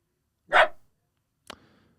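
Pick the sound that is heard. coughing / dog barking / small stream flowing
dog barking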